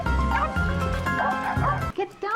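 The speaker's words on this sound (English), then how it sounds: "It's a dog, and it's with me." Dog in an indoor scene giving loud, close, sharp barks and yips, then high whimpers toward the end, mixed under speech.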